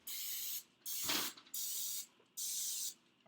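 Four short bursts of cooking spray hiss onto a muffin pan in a row, each about half a second long, close and fairly quiet with brief pauses between.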